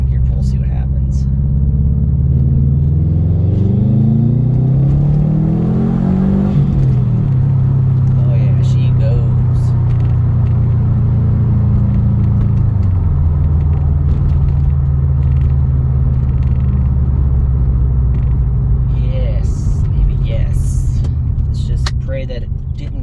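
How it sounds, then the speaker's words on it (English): A 2017 Subaru STI with new fuel lines and small bolt-ons accelerates hard in second gear, the engine note climbing loudly before a shift and then settling into a steady rumbling cruise up close. "Do a quick second gear pull, see what happens."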